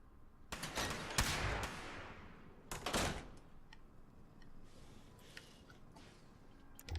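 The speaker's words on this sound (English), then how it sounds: "Hard to tell if they're shooting at other players or just the ghouls that happen to run around here." Distant gunfire in Fallout 76, a few scattered bursts and single cracks echoing across open ground with long quiet gaps between them, no voices.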